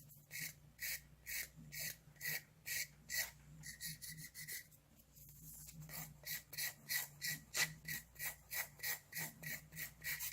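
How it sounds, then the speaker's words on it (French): A nail file rasps across CND Brisa gel nails up close in steady back-and-forth strokes, about two dozen in all, with a short change of pace partway through before the even rhythm resumes. "Important de ne pas trop limer non plus, hein, c'est du gel."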